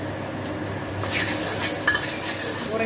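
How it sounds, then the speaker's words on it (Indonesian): Garlic fries in hot oil for a Chinese-style sweet and sour fried pork rib dish, a steady sizzle under light stirring and a few metal scrapes against the pan. "panaskan minyak, terus goreng bawang putih"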